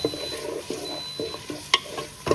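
Onions frying in a pan for a mushroom pepper fry, with repeated scraping stir strokes at a steady rhythm and a light sizzle underneath, heard up close with no talking.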